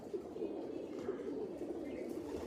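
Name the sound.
cooing of a Teddy pigeon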